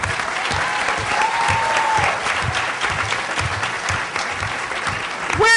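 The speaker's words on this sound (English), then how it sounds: "Give them a big round of applause." An audience at a Congressional Black Caucus braintrust event breaks into dense, sustained applause that fills the room, with a brief squeal near the end.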